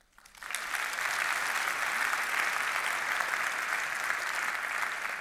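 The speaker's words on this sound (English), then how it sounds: "So I would also like to have an applause for all those people like Maarten, Alejandro, and many other peop" Applause at a university anniversary ceremony for the backstage crew begins abruptly and swells within half a second into steady, dense clapping from a large audience that continues unbroken.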